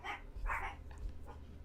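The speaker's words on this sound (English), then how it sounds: "my dogs are just barking here at the door" Dogs barking at a house door indoors, a few sharp barks in quick succession at moderate distance, without speech.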